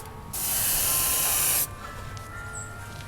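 White spray paint hisses from an aerosol can onto Yamaha RZ350 tank and parts in one steady, loud burst of more than a second, then stops, leaving a quiet room.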